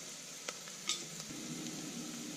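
Spices frying in hot oil for moong dal give a steady, close sizzle, with a few soft clinks of stirring.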